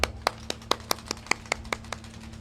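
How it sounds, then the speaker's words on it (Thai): Applause from an audience at a band performance by a bridge, heard as about a dozen crisp claps in a steady, even rhythm, close and fairly loud. "ขอเสียงปรบมือให้กับพี่มันนะครับ"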